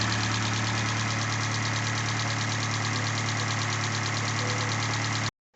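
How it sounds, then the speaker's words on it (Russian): Rebuilt Hyundai i40 with a 2.0 G4NA engine idling, a steady even drone with a fast ticking of injectors, close and continuous, then stopping abruptly at the end. "прекрасная работа двигателя, никаких посторонних шумов"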